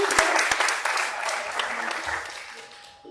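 Conference audience applauding a speaker in a hall, dense clapping loud at first with a few sharp individual claps, then gradually fading toward the end, a voice briefly audible.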